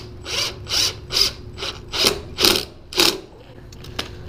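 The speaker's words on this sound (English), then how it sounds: "I want to get a screw in here in this strap." Cabinet screw driven with a power driver into a strap on a steel knock-down door frame, seven short whirring bursts in an even rhythm, close and moderately loud, ending with a couple of faint clicks.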